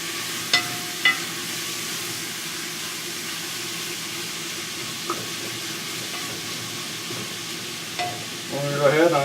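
Low, steady sizzle of baked beans cooking in a pan over moderate heat, with a few light utensil taps and a brief scrape and stir near the end.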